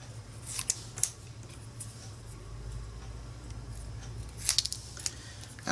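Scissors snipping the humped edges off a die-cut paper card, with a few sharp close snips early on and a quick cluster of cuts near the end over a faint background hum, no speech.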